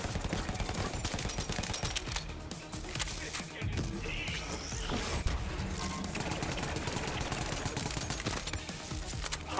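Rapid gunfire from Borderlands 3 combat runs continuously under a dense, loud mix of game effects, with players talking over the shooting.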